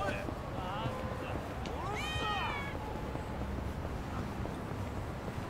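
A cat meows several times in Yakuza: Like a Dragon, short rising mews clustered together at moderate volume over a steady ambient game backdrop.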